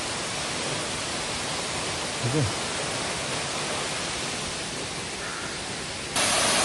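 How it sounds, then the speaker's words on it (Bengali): Bonga Kocha waterfall in Jharkhand roars as a dense, unbroken wash of water close by, steady and loud throughout, with a single brief spoken word barely rising above it. "এই হচ্ছে বনগা খোঁচা ওয়াটারফল"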